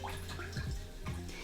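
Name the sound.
rinsing a paintbrush in water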